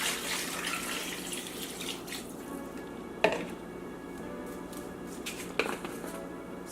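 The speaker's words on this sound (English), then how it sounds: "Add water." Water running into a cooking pot with chicken while preparing a Liberian dish, a continuous splashing pour with a couple of metallic pot clanks.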